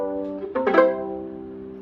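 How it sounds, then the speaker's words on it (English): A single plucked pizzicato chord on a viola, a soft close attack of two or three strings that rings briefly and fades, alone without talk. "one of them is pizzicato, which is when you pluck the strings. So that could sound like this."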